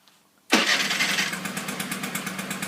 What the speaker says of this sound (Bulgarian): Honda пали така.